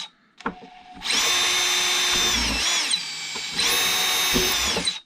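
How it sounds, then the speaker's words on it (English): Two sustained runs of a high-pitched power drill whining at full speed while drilling holes in a model airplane, each lasting about two seconds, close by with a short pause between them. "We're going to go ahead and drill all those holes."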